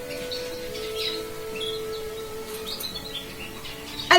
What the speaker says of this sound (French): je voulais vous présenter mes 2 petites turquoisines